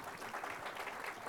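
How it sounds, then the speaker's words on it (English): Brief, steady applause from an audience at a leadership summit talk, a dense wash of clapping throughout. "A round of applause."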